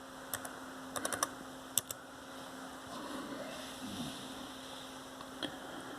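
A password is typed on a Dell computer keyboard during a BIOS update: a quick cluster of crisp key clicks early on, then a few scattered taps over a faint steady hum.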